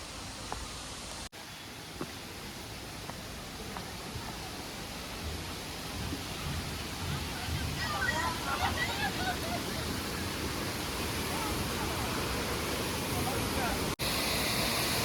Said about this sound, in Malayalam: വെള്ളം കുറവായതുകൊണ്ട് വലിയൊരു വെള്ളച്ചാട്ടവും നമ്മൾ പ്രതീക്ഷിക്കേണ്ട